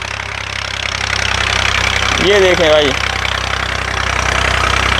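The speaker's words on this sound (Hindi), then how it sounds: "ट्रैक्टर चला रहे हैं" A tractor engine runs steadily on a Punjab farm, a loud continuous rumble with a brief tonal whine midway, and someone talks over it.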